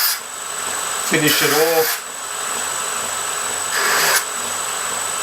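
A horizontal grinder puts a camber on a piece, heard as two short, loud rasping bursts of grinding separated by a quiet gap, with someone speaking briefly between them.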